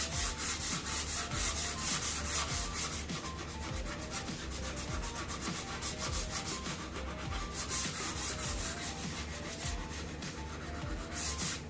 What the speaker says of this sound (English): Sandpaper here, and we'll work on the edges.